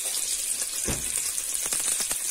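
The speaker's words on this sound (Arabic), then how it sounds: "ننزل عليهم شوية زيت" Bright, steady hiss of oil sizzling over vegetables in a hot pan, close and continuous, with a few soft crackles and pops breaking through.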